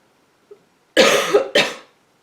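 A person coughs twice nearby, a rough, throaty cough followed by a shorter second one, in an otherwise quiet room.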